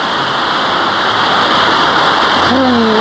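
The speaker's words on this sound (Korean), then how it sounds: "여기는 북한산 방골 계곡입니다 이렇게 시원한 폭포 소리와 더불어" A waterfall in Bamgol Valley on Bukhansan roars as a loud, steady, broadband rush of falling water close by, with a brief tonal whistle near the end.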